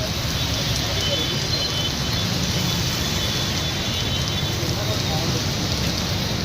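Heavy rain pours onto a street in Hyderabad, a dense, steady roar of falling water that stays loud and unbroken from start to finish.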